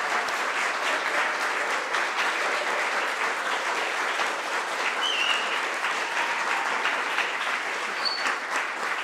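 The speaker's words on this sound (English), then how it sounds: "Can we please get a round of applause for all of the presenters today?" An audience at a PechaKucha Night presentation event applauds the presenters, sustained dense clapping that holds steady and fairly loud for the whole stretch, no voices rising above it.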